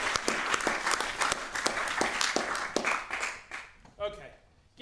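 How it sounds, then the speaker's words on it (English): A conference audience at a Drupal awards event in Amsterdam gives a sustained round of applause for the sponsors, dense clapping that fades toward the end as a voice speaks over it. "a big round of applause for True, Planbox, and my employer"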